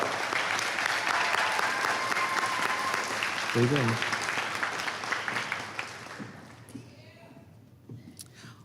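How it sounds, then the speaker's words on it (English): Graduation ceremony applause from a large crowd, a dense steady clapping that fills most of the clip before thinning out near the end, with a brief spoken voice in the middle. "let's give them a big round of applause"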